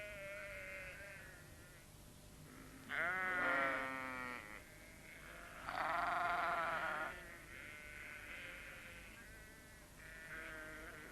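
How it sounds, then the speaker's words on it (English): Several sheep bleat close by in the 1982 children's animated show Postman Pat, long wavering cries with short quiet gaps between them, over a faint background hum. "The sheep were glad to see them."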